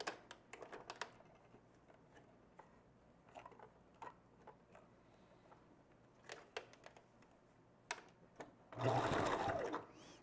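A sewing machine stitches a wig in short, quiet bursts of clicking, with a louder, denser run of stitching near the end.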